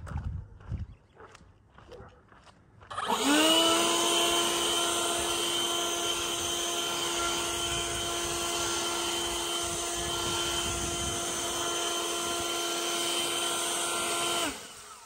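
An Enhulk 58V 930CFM cordless leaf blower, used on wet, heavy leaves, spins up after a few seconds of footsteps and shuffling into a loud, steady electric whine and airy roar that holds evenly, then winds down at the end.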